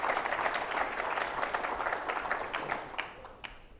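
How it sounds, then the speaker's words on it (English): Sustained audience applause at a GROWCON conference session, a dense wash of many hands clapping that stays steady for several seconds, then gradually thins and fades toward the end. "Big round of applause."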